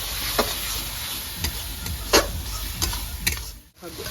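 Gravy with tomato, coriander powder, chili powder and salt is stirred and sautéed in a pan for a rohu fish dish, a steady sizzle punctuated by about five distinct spatula scrapes, with a brief lull near the end.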